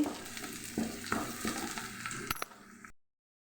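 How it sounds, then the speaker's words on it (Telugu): Ginger and garlic fry in hot oil for fried rice with a close, crackling sizzle, punctuated by several sharp spoon clinks against the pan, before the sound cuts off abruptly. "అల్లం వెల్లుల్లి కూడా కొంచెం వేయించుకున్నాము"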